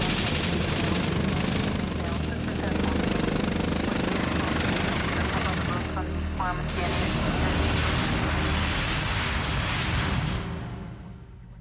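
KCAL's Sky 9 news helicopter flying over Los Angeles in 1993: a loud, continuous rotor and engine drone that holds steady, then fades slightly at the end.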